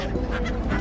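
A flock of gulls or similar seabirds calls around a tourist boat near the Gateway of India in Mumbai, a brief burst of overlapping honking cries, fairly close and loud.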